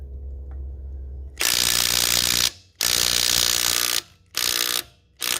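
A Makita 18V sub-compact 1/2-inch impact wrench, blue edition, hammers on a car lug nut in three loud, rapid rattling bursts, each a second or so long, separated by short pauses after a quiet start.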